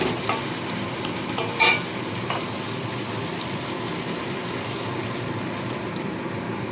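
Potatoes and spices in a pan with water being added, a steady watery simmer and bubbling hiss throughout with a couple of brief clinks near the start, no talk.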